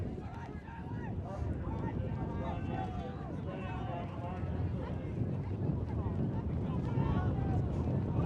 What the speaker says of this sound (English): Wind really picking up now.